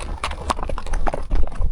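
Criollo horses walk nearby in the hills of the region, their hooves giving close, uneven clip-clops as several steps overlap.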